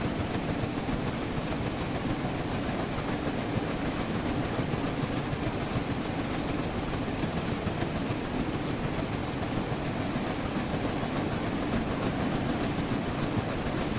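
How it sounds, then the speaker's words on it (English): Flying Scotsman steam locomotive running in Train Sim World 4, a steady broadband rumble and hiss of wheels and steam, continuous and fairly loud throughout with no voices. "Oh, these train sounds are lovely."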